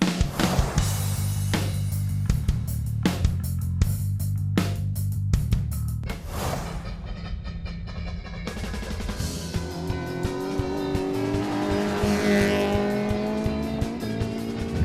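A Suzuki Sierra 1.3 litre four-wheel drive races a short course rally track, engine roaring loud and close with repeated tire squeals and skids, then a steady engine drone as the car pulls away.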